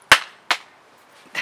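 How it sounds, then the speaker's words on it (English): A spatula scraping against fabric shorts in a fluid-acrylic painting session: two sharp brushing swipes followed by a fainter third, close and fairly loud, with no talking. "That was the sound of my shorts with a spatula on them."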